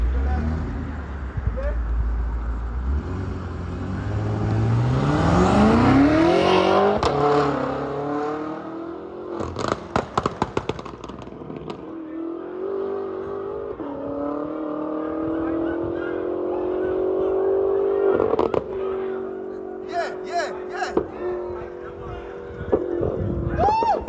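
A loud car at an underground car meet in Ghana accelerates hard past in a flyby, its engine rising and revving through several gear pulls before settling, with people talking nearby.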